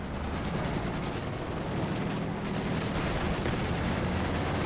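Dense, sustained rapid gunfire from Partisans' PPH-41 submachine guns in the Company of Heroes 2 strategy game, with a continuous roar of overlapping automatic bursts and battle noise throughout.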